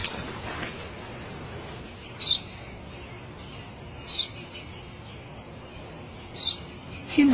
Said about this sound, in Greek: σπουργίτη είναι.